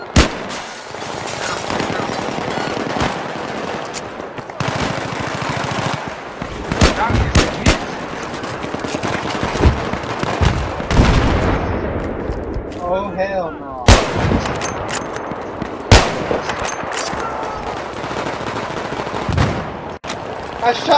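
Rapid gunfire and explosions in the video game Battlefield 3 crack loudly throughout, with bursts of automatic fire, heavy booming blasts and a brief lull in the middle, with some talk mixed in.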